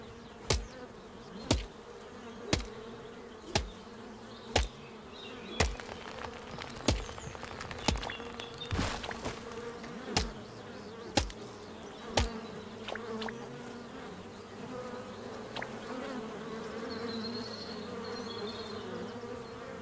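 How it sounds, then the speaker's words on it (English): Buzzing bees in a video game hum steadily beneath a run of sharp, evenly spaced clicks or taps that stop partway through, leaving the insect drone to continue alone. "Those are fat bees."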